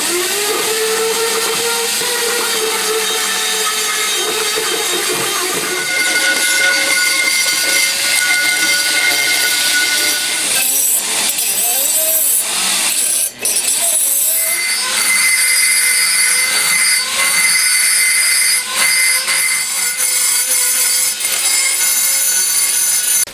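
Grinder working a freshly cast cylinder head for a handmade 125cc four-cylinder, 16-valve engine, a loud continuous high-pitched whine and screech that wavers as the tool bites, with scraping bursts partway through and no talking.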